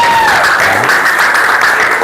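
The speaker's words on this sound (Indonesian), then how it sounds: "Oke, tepuk tangan untuk kita semua." A class claps hands together in a classroom lesson, a loud, continuous burst of clapping close by that holds evenly for a couple of seconds.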